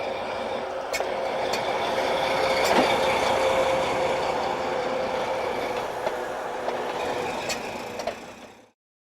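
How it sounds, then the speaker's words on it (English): A Southern Pacific train with numbered locomotives and a caboose rolls steadily past an old ice deck in a rail yard in the early 1970s, giving a continuous rumble with faint wheel squeal that cuts off abruptly near the end. "Passing by an old ice deck are numbers 50 and 30, followed by caboose number 210."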